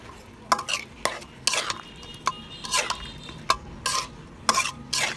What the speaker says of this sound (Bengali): এই পর্যায়ে চলে আসলে এখন আপনি দিয়ে দিবেন আমের টুকরোগুলো।